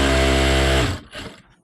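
Sewing machine stitching fabric from an old saree being made into a dress, running in a fast steady whir for under a second before stopping abruptly, leaving a faint mechanical trailing rattle.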